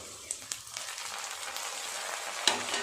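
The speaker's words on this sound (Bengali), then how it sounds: "পেঁয়াজটা বেশ ভাজা হয়ে গেছে এর উপরে দিয়ে দেব কুচিয়ে রাখা টমেটো" Onions frying with chopped tomatoes added to the pan for a banana-flower dish, giving a continuous light crackling sizzle with a few sharper clicks and a louder clatter near the end.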